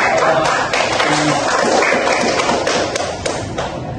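Applause in a classroom during a microteaching lesson: a dense, steady patter of hand claps from a small group, fairly close and loud, easing slightly toward the end.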